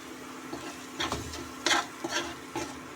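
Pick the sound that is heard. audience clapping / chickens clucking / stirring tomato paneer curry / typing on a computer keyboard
stirring tomato paneer curry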